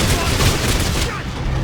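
Sustained, loud gunfire from weapons in the sci-fi horror shooter Dead Space 3, a dense continuous volley running through the whole moment with faint talk underneath.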